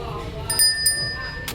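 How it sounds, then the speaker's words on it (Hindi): A small metal bell in a grocery store, steel with a gold-like coating, rings a few bright, sustained dings over steady store background noise. "घंटा ही है ये।"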